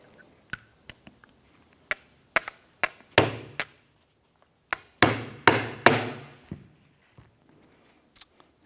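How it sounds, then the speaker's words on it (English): A hammer lightly tapping a 19mm socket set over a bolt on a 2001-2005 Honda Civic engine, giving a series of sharp, close metallic clinks, some single and some in quick clusters, with a few louder ringing strikes. "we're just going to give this a couple light taps"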